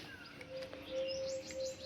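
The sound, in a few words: birds calling on a rooftop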